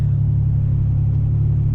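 A car on a small-town road close by, its engine giving a steady, loud, low rumble throughout with no pause.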